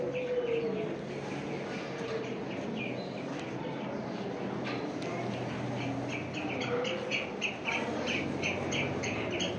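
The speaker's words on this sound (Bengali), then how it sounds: "পাখির ডাকার শব্দ দেখুন, আর্কটিক সার্কেলের পাখি।" Calls of Arctic Circle birds play at a display in Iceland, with a steady chorus of chirps, tweets and cooing that runs throughout.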